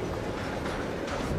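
Train rolling in the zombie shooter Arizona Sunshine 2, a steady broadband rumble of rail cars with a faint clickety-clack rhythm, continuous and fairly close throughout.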